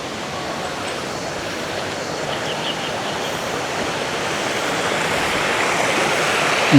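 Steady broadband rushing of the shallow Mariano River in Trece Martires, Cavite, continuous and fairly close, with no voices, like water running over rocks.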